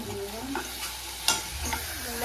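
Steady sizzling of onions sautéing in a frying pan with occasional stirring scrapes and clinks, continuous and close.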